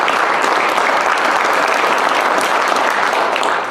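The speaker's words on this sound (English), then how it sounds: "You guys deserve an absolute huge round of applause." A school audience gives sustained applause after a presentation: dense, even clapping at fairly loud level that holds steady and tapers slightly at the end.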